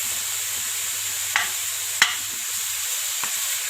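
Minced meat sears in a dry pan with no oil or fat, a steady close sizzle with a few sharp scrapes of stirring.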